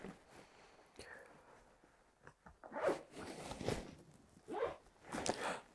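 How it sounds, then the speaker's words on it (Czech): The zipper on the inner pocket of a Brandit Performance military jacket is worked with a few quiet, scratchy pulls, soft rasping strokes coming and going close to the microphone. "jsou ještě vnitřní kapsy, uzavírané zipy"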